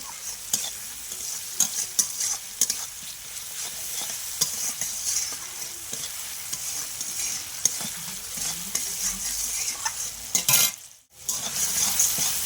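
Onion, tomato and garlic fry in a pan with a steady crackling sizzle that runs for over twelve seconds, punctuated by frequent stirring scrapes and a brief pause near the end.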